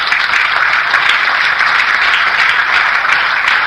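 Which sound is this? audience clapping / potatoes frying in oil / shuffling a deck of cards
audience clapping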